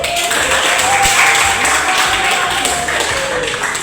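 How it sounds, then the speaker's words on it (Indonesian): Students in a junior high school classroom clap for the duty officers, a loud, dense burst of applause filling the room evenly from start to finish. "Tepuk tangan dulu untuk petugas"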